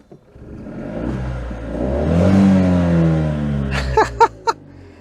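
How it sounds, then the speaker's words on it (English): A 2019 Fiat Panda Cross TwinAir two-cylinder engine runs and revs, a steady mechanical drone rising and falling, ending in a few sharp clattering bursts. "I'm so used to hearing that noise with a Fiat engine"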